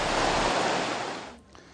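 Water from a burst Sabesp water main gushes and floods a street in Bela Vista, São Paulo, a loud, continuous rushing roar that eases and drops away near the end, with no speech.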